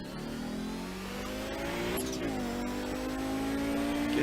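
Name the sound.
race car accelerating on the back stretch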